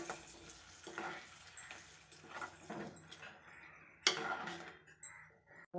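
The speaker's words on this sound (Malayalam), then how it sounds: "നന്നായിട്ട് മിക്സ് ചെയ്ത് കൊടുക്കാം." Mango pulissery stirred in a pan, soft repeated scrapes and swishes of a spoon through thick curry with faint sizzling, close but quiet, ending in a sharper clink.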